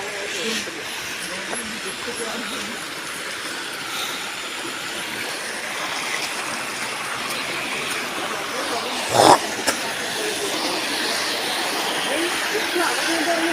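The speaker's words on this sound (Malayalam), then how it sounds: "വെള്ളത്തിന്റെ സൗണ്ടൊക്കെ കേൾക്കാനില്ലേ" Water flowing at a waterfall, a steady broadband rushing hiss that continues throughout at moderate distance, with a brief louder thump or knock partway through.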